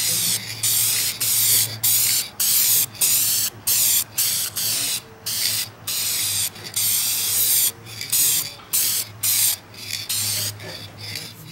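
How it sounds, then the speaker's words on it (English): Clear guard coating sprayed onto metal in rapid repeated bursts, loud close hissing blasts separated by short gaps, with no talking. "now we're going to shoot some clear guard on top."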